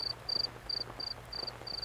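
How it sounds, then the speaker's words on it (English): Crickets chirping as part of a nature ambience mix for a rainy riverside camping scene, six evenly spaced bright bursts of chirps repeating steadily over a low background hum. "So you gotta turn on some crickets,"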